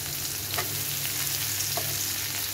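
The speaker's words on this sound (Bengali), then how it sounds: "চিংড়িটা এরকম ভাজা হয়ে গেলে এ পর্যায়ে আমি এতে অ্যাড করব পেঁয়াজ কুচি" Shrimp sizzle steadily in hot oil in a pan as chopped onion goes in, a continuous bright frying hiss with a few stirring scrapes and no talking.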